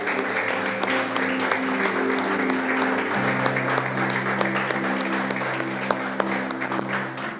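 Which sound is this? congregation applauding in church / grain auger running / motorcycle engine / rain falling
congregation applauding in church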